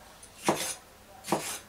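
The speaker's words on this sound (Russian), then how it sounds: "вы слышите этот звук, сухой звук от кромки по дереву." Two dry scraping strokes of a full-tang kitchen knife edge drawn across a wooden cutting board, each short and crisp, close up with quiet pauses between and no talking.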